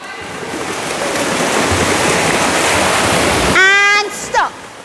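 Children in a swimming pool kick their legs hard, churning up a loud, steady wash of splashing for several seconds during a lesson for pupils with special needs, then the splashing stops and a voice calls out briefly at the end.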